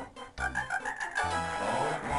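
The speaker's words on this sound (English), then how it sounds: "Six froggies." Cartoonish frog croaks in WarioWare Inc., several short throaty ribbits in quick succession, close and clear with no talking.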